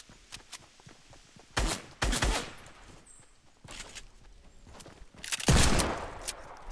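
Gunfire in Fortnite: scattered shots, then several loud bursts of rapid fire separated by short pauses, ending in a heavy close volley.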